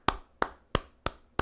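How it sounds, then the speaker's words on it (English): Five single hand claps ring out at an even, slow pace, each a sharp, close, isolated smack with a brief decay and quiet gaps between. "Can we get a round of applause"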